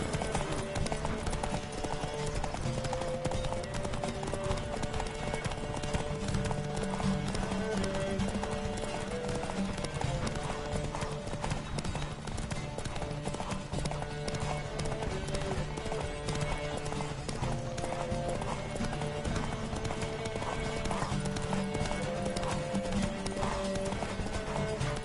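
Horse hooves gallop in a rhythmic clip-clop during a horse race in the video game Witcher 3, with occasional neighs over a steady, busy game soundscape of music and effects.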